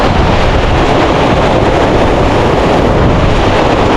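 Loud, constant strong wind roaring and buffeting against the microphone, a dense rushing noise with no letup and no voices.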